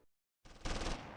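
Covering fire from infantry in the WWII strategy game Close Combat 3, a brief burst of rapid machine-gun fire starting after a short silence, fairly faint and with no voices.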